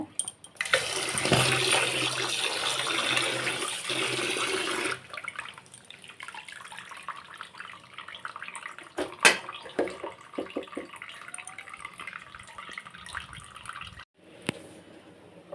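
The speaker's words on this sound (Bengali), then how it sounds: "চিকেনটা এখন ধুয়ে নেব" Tap water gushes over raw chicken for about five seconds, then cuts off, leaving scattered splashes, drips and handling clatter in a kitchen sink.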